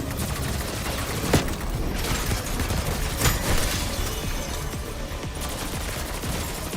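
Rapid automatic fire from the Mystic Gold nail gun in Black Ops 6 crackles on without a break against a hardcore boss, with two sharper bursts standing out above the constant game noise.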